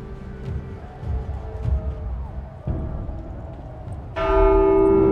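A church bell rings out loud and sustained in The Walking Dead: Saints & Sinners, a bright resonant strike that cuts in suddenly over quieter game ambience and then keeps ringing.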